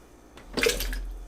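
Water pours briefly into a Breville BBL620 Fresh & Furious blender jar for a green smoothie, a short close splash that rises and then settles into a steady trickle.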